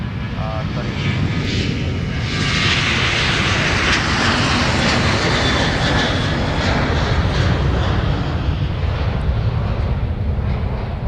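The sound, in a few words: airplane taking off at Minneapolis-St Paul airport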